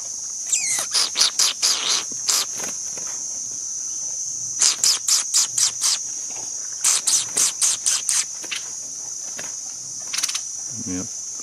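A caged red-whiskered bulbul (nok kron dok daeng) sings in bursts of rapid sharp chirping notes, loud and close, over a steady high insect-like whine, with a faint voice near the end.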